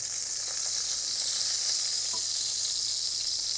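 Pointed gourd (potol) frying in hot oil for a lentil curry, a steady close bright sizzle throughout with a few faint crackles and pops, no voices.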